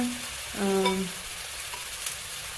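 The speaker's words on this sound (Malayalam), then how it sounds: "വഴുതനങ്ങ എണ്ണയൊഴിച്ച് കുറച്ച് ഉപ്പും മഞ്ഞളും കൂടെ ചേർത്തിട്ട് നന്നായിട്ടൊന്ന് വഴറ്റിയെടുത്തേക്കാം" Brinjal sautéing in oil with salt and turmeric, a steady soft sizzle with a brief scrape of stirring near the start, then settling into a low continuous fry.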